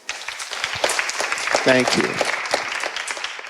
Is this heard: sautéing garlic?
no